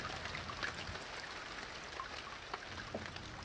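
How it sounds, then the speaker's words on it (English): Steady soft rain patters throughout in the visual novel Ame No Marginal, a faint, even hiss of drops with a few scattered louder taps, no voices. "waking up at the sound of rain, I slowly opened my eyes."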